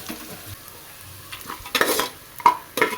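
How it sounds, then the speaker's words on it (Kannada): Onions frying in a pan while being stirred: a faint background sizzle broken by a few sharp scrapes and clinks of a spoon against the metal, growing louder toward the end. "ಈ ಥರ ಈರುಳ್ಳಿ ಎಲ್ಲ ಕಲರ್ ಚೇಂಜ್ ಆಗಿದೆಯಲ್ಲ, ಅಲ್ಲಿವರೆಗೂ ಹುರ್ಕೊಬೇಕು"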